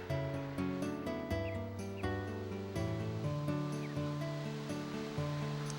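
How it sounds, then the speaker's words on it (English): A steady rush of falling water in the video game Dark Cloud 2, an out-of-bounds waterfall, heard as constant soft noise under prominent background game music. "We have the out of bounds waterfall."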